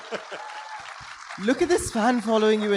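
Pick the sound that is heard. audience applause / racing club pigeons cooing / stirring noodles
audience applause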